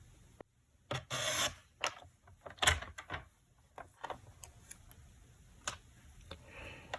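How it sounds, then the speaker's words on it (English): A paper trimmer with a darker blade slices through card stock for a pumpkin-themed pop-up card, making a few short rasping, scraping strokes between quiet pauses, close and fairly soft. "I'm going to go ahead and trim it. I'm using that darker blade."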